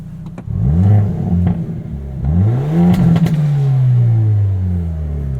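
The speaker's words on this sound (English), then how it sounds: "you can hear the exhaust gets a little bit louder" A 2022 Hyundai Elantra N engine revs hard twice, the exhaust rising and falling with sharp pops and crackles between the revs, loud and close.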